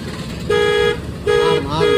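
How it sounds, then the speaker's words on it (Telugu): A car horn in city traffic honks three short toots in quick succession, loud and nearby, over a low rumble of road noise. "రైట్ పర్లా హార్న్ కొట్టి వెళ్ళిపో."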